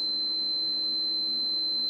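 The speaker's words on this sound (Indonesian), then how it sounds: "Maka buzzer akan menyala selama dia ngedeteksi adanya asap lagi ya." A homemade smoke alarm's buzzer sounds as one unbroken, shrill, high tone over a faint low hum, holding steady throughout.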